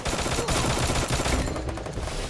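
Rapid automatic gunfire in the Free Fire shooter game, a loud dense burst of bursts filling the whole stretch, close and continuous with no pauses or talk.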